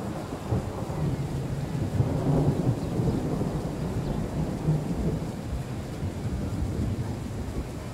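Thunderstorm in the Train Sim World 3 video game, with a deep rolling rumble of thunder over steady rain and wind, dense and continuous for several seconds with no talking.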